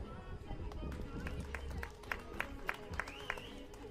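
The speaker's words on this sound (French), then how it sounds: "Ils ont besoin de vos applaudissements et de vos encouragements" A crowd at a karting event claps for young drivers. The applause is sparse and spread out, with distinct hand claps under a loud announcer's voice.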